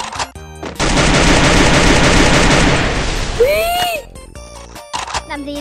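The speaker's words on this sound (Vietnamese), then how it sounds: "hình như cái tầm bắn của cái súng này nó thấp hơn đúng không?" Rapid automatic gunfire from a video game gun fires in a dense, loud burst for about three seconds, followed by sharp whooshing effects and scattered impacts, with a voice briefly present.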